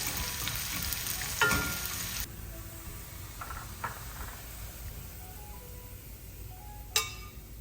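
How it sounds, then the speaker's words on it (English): Green onions are sautéed in a clay pot, giving a close, quiet sizzle under occasional scraping stir sounds and a couple of brief clinks. "Saute this for about 1 minute until you can smell the aroma of the green onions."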